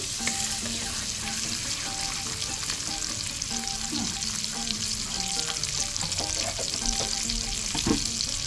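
Butter sizzling and frying in a pot while vermicelli is made for an Eid meal, a steady close crackle with occasional stirring clinks and scrapes throughout.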